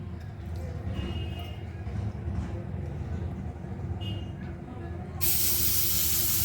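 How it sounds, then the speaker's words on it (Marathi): Cooking oil hits a hot griddle heated for coriander thalipeeth, breaking into a sudden loud hiss near the end after a quieter stretch of kitchen noise with a voice in the background. "थोडं तेल टाकूया आधी तव्यावर"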